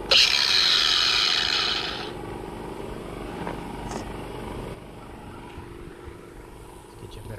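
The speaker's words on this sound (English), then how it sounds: "Cup wheel." A cup wheel on a power grinder working on gutter material, a loud bright grinding burst that cuts off after about two seconds and leaves quieter scraping and a couple of clicks.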